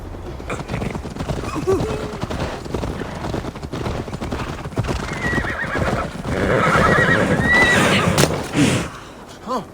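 Horse neighing with clip-clop hoofbeats in Assassin's Creed Valhalla, whinnies rising out of a busy game soundscape with a louder surge of galloping and movement late on, fairly close.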